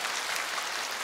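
Studio audience at a KBS National Singing Contest taping in Bucheon, Gyeonggi, clapping in a steady, dense wash of applause that holds evenly throughout the moment.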